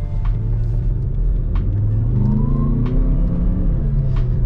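A Skoda Kodiaq RS with the 2.0 BiTDI twin-turbo diesel, 240 hp, 4x4 and DSG, rumbles loudly and steadily from inside, with rising and falling engine tones as it pulls through gear changes.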